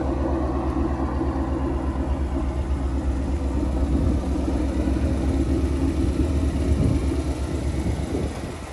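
A 2017 Mustang GT Premium's engine idles with a steady, deep low rumble, close and fairly loud, holding an even tone throughout with no other sounds.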